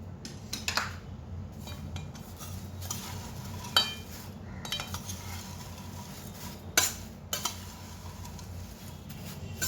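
Chivda being stirred in a pan after amchur powder is added, with the spoon scraping and clinking against the metal in a steady rhythm, plus a few sharper knocks against the rim.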